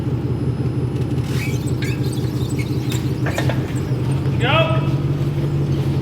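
A Bombi with bent axles, stuck and being eased out, gives a low steady engine rumble throughout while people talk and call directions over it.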